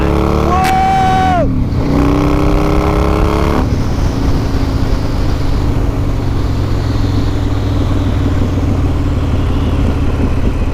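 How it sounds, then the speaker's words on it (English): A Harley-Davidson Fat Boy with a 140ci motor revs up in a rising whine that drops at a gear change, then settles into a loud, steady rushing drone under wind noise. "I don't think I've ever ridden a Harley that was this fast"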